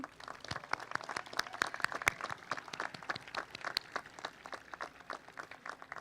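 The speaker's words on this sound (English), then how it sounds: "just give them a round of applause and help me say thank you" Audience applause at a college commencement ceremony honoring faculty, staff and administration: dense, steady clapping from a large crowd with sharp individual claps standing out, moderately loud throughout.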